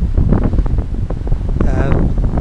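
Wind gusting around a tall ship under sail high up near the main mast, a steady loud buffeting roar with rope and rigging noise and a brief creaking rattle, no voices.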